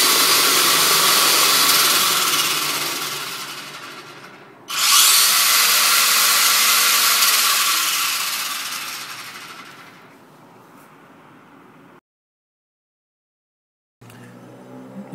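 Traxxas E-Revo VXL electric RC car running at top speed on its stock nickel-metal hydride battery, a loud high-pitched motor whine that cuts, surges again, fades into the distance, then goes silent before a brief return.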